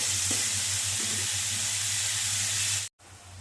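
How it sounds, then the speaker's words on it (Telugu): Thinly sliced onions sizzle steadily in a pan for a chicken curry, a loud, continuous close-up hiss with a low hum beneath and a brief drop to silence near the end. "నేను ఆనియన్స్ని చాలా సన్నగా తరుక్కున్నాను. ఇవి బాగా ఫ్రై అవనివ్వాలి."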